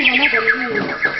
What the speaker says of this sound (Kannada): ಈ ಹಕ್ಕಿಯನ್ನು ಕೂಗುತ್ತಾ ಕೇಳಿದರೆ